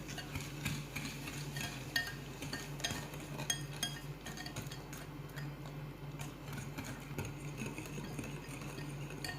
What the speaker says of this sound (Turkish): şeker eriyene kadar iyice çırpıyorum